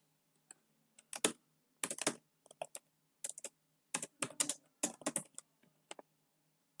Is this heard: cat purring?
no